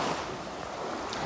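Sea waves wash around a boat, a continuous close rush of surf and water mixed with wind buffeting the microphone, with no voices.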